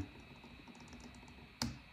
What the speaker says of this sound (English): see, I'm clicking, I'm clicking, I'm clicking